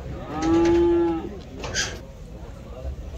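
A calf lets out a single drawn-out moo at a livestock market, fairly close and clear, followed by low background market noise and a brief faint voice.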